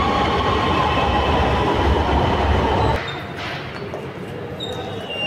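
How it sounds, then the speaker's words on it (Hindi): Lahore Orange Line metro train pulling away from Salamatpura station, a loud steady rumble and rail roar from inside the car that drops to a quieter hum partway through. "सलामतपुरा स्टेशन ट्रेन चल पई है।"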